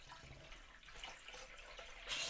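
Cold tap water running steadily into a pot holding canning jars for preserving bratwurst, a soft continuous splashing stream, faint and close, with no voices.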